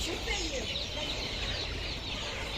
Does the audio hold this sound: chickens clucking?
yes